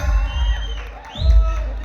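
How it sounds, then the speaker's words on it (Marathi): An audience at a live anniversary award ceremony bursts into two loud waves of clapping and cheering, with crowd noise and shouted voices swelling, dipping briefly, then rising again. "एकदा जोरदार टाळ्या"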